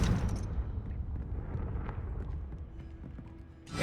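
Confringo blasting spell explosion in the video game Hogwarts Legacy, a rumbling blast with crackling debris that fades over several seconds, then a fresh sharp burst at the very end.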